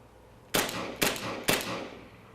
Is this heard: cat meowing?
no